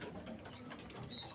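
A caged bird gives a short, faint call, a quick soft chirp with a few light mechanical rattles behind it.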